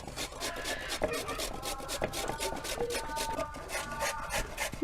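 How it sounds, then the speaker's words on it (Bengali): Carrot rubbed against a hand grater in a home kitchen, a rapid continuous rasping scrape with rhythmic strokes, close and moderately quiet. "গাজরটা আমি প্রথমে কুড়িয়ে নেব।"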